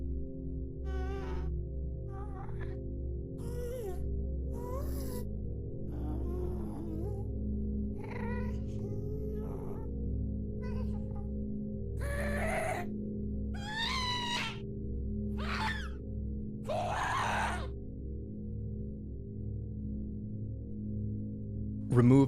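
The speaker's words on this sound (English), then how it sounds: "every time I hear a ghast, I try really hard to imagine a cat making that sound" Minecraft ghast cries from the video game sound over a steady droning music bed: a series of separate, high, wavering cat-like wails and moans, each brief and spaced apart, growing more frequent toward the end.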